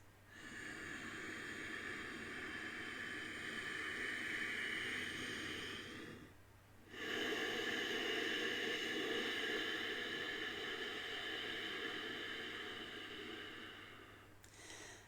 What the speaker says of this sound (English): I'm using my nostrils to breathe through, but I'm breathing at the base of the nostril